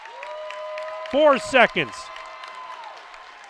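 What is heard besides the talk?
crowd applause at a high school basketball game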